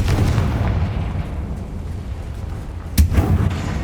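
A Confringo fire spell blasts in the Hogwarts Legacy video game near a damaged bridge, a low rumbling impact followed by a sharp loud explosive burst and crackling tail.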